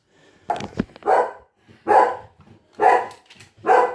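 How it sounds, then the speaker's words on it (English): A dog barks in a home kitchen, giving five sharp, fairly close barks at an even rhythm with short quiet gaps between them. "That's why he's barking like that."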